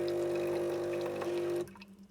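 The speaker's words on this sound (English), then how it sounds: "So press rinse. That will go through the process of rinsing it." A pod coffee machine running its rinse cycle hums and pours water steadily, then cuts off abruptly near the end, leaving faint drips and quiet.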